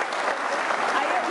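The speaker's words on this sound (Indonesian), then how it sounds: "kasih tepuk tangan dong Nita." An audience applauds steadily for a guest named Nita, a dense, even wash of many hands clapping close by that holds at a constant level for its whole short length, with no voices above it.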